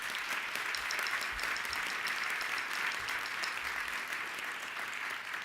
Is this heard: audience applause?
yes